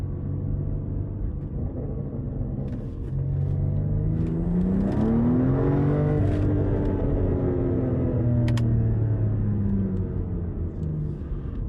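A tuned BMW X3M's engine is revved outside, swelling from a deep rumble into rising and falling revs, with a few sharp exhaust pops and crackles near the end, loud and close with no talk.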